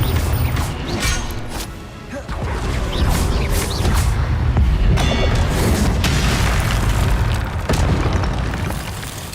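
Confringo fire spell blasting in the video game Hogwarts Legacy, a dense, loud run of booming explosions and crashing impacts that fills the whole stretch with heavy low rumble and scattered sharp bursts.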